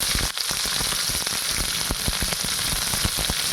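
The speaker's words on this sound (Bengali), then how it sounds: "তো তেলটা গরম হয়ে গেছে, আমি এবারে পেঁয়াজটা দেবো" Chopped onion hits hot oil in a wok while egg chow mein is cooked at home, giving a steady, close crackling sizzle with no talking.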